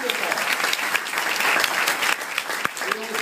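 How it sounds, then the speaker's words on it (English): Audience of a high school project grad hypnotism show applauding with steady, dense clapping throughout, a few voices mixed into the crowd noise. "give a nice round of applause"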